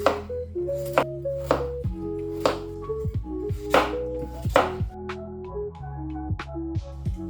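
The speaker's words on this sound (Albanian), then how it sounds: "Kam marrë 5 patate, i kam pastruar dhe do t'i presim në copa." Repeated knife chops on a cutting board as potatoes are cut into pieces, sharp irregular knocks close up, with no talking.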